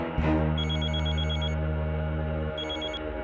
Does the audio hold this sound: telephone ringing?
yes